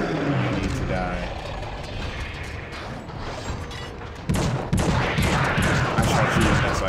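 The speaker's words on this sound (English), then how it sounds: "Shooting you in the legs, in the butt, in the chest." Gunfire in the horror shooter The Suffering, rapid overlapping shots and bursts layered over a dense game soundscape, growing louder and harsher in the final seconds.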